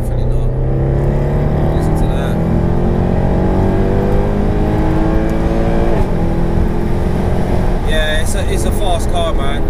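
A tuned Mercedes C63 AMG with about 530 bhp accelerates hard, its deep engine note climbing steadily through the revs in a loud, close, continuous roar with a brief shift and a sharper rise near the end.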